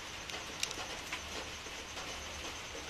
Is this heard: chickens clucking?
no